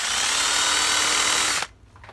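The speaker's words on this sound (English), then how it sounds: "Now we'll see if we can drill it without messing it up." A power drill whines at high speed for about a second and a half while drilling a petcock part, then cuts off abruptly into near silence.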